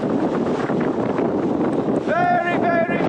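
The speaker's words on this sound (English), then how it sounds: "Very, very windy." Strong wind buffets the microphone with a constant roaring rumble on the summit of Stob Coire Sgriodain, a Scottish mountain, and a short burst of whistling or chirping tones rises near the end.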